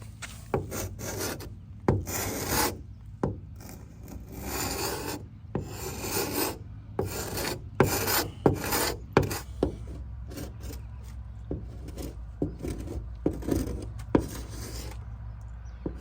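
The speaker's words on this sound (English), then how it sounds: "So I'm gonna get my scraper and see what this does." Hand scraper rasps over a hardened, dried-out surface on a sailboat, close and harsh, with bursts of irregular scraping strokes repeated over about sixteen seconds.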